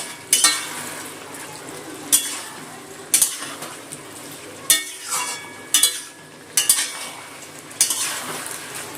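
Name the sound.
stirring sugar into sautéing greens with hilsa fish head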